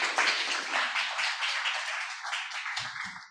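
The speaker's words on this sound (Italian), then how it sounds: "vi chiedo di fare un forte applauso" An audience applauds at a presentation event, with dense, steady clapping that gradually thins and fades, ending with a few low thumps.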